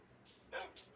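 Dog barking in a survival video game, a short bark burst with a fainter yip after it, heard fairly close over low game background noise.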